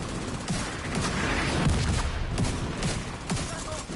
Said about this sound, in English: I'll switch to my secondary weapon, which is a shotgun